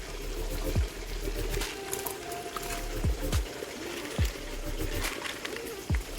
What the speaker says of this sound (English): So I'm going to add more water because the water that I added is not enough.